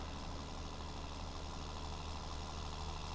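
A tractor engine idling in Farming Simulator 19, a steady low drone that holds an even level throughout, faint and unchanging.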